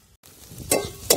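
Onion, green chillies and garlic sautéing in a pan for potato chutney, with a soft sizzle and two sharp scraping stirs of a spoon close by.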